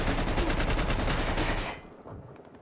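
Video game gunfire in the shooter Black rattles off as a rapid burst of close, loud shots for under two seconds, then cuts off to a faint tail.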